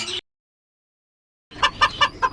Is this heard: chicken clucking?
yes